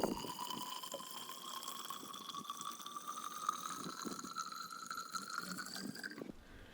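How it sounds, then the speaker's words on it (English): Water runs into a milk jug close by, a quiet steady pour whose ringing tone rises in pitch as the jug fills, then stops near the end. "Then I filled the jug with water."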